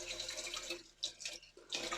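Tap water runs and splashes into a sink in bursts as someone wets their face before a shave, close and steady with brief pauses between splashes.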